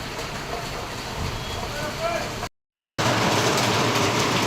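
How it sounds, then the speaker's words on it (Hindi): Rain falls steadily outdoors in Devprayag, a dense, even hiss of rainfall throughout, with a brief gap of silence partway through. "और बारिश हो रही है"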